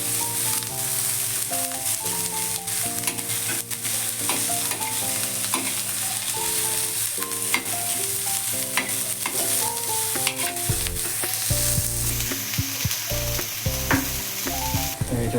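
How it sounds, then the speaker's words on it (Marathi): Onions sizzle loudly in hot oil in a pan while being fried golden brown for a Goan oyster gravy, with constant stirring and scraping clatter throughout. "आपल्याला हे आता चांगलं फ्राय करून घ्यायचं, म्हणजे भाजून घ्यायचं गोल्डन ब्राऊन होईपर्यंत"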